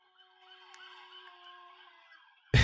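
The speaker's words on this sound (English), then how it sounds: "This is Woody howling at the passing police siren." A dog named Woody howls along with a passing police siren, thin wavering wails held faintly for about two seconds before a sudden loud knock ends it.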